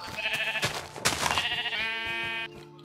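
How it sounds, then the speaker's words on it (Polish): Sheep bleat repeatedly in the Minecraft video game, several wavering nasal calls in quick succession, fairly loud and close with no talking over them. "O, owce muszę sobie zabić."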